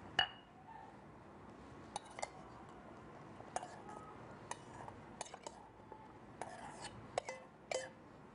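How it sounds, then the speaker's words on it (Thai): Garlic pounded in a mortar while making Thai chili paste: sparse, sharp knocking strikes at irregular intervals, fairly faint, with quiet background and no talk. "ต่อไปก็โขลกกระเทียมนะคะ"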